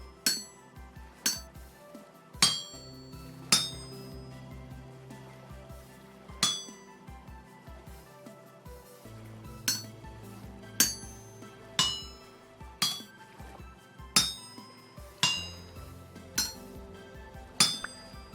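Hammering a chisel on an anvil in the survival video game Vintage Story, a steady series of bright metallic clinks spaced about a second apart, each ringing briefly, with a low background hum.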